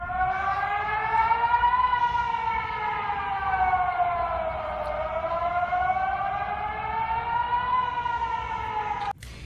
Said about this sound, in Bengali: সাইরেন শুনলাম